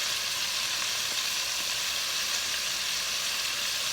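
Prawns frying in oil on medium-high heat, a loud, continuous, even sizzle with no talking.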